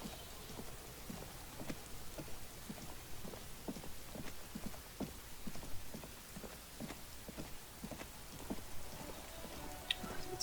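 Rain in the video game Disco Elysium The Final Cut, a steady soft patter with regular tapping drips throughout, no voices.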